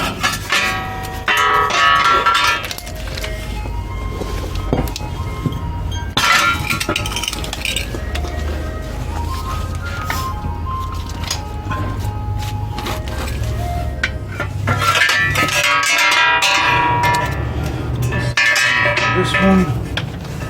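Metal clinks and clanks as bolts are removed from the rear hub assembly of a 2008–2018 Dodge Grand Caravan, with intermittent tool rattles and bursts of ringing metal over a low garage hum, close and moderate.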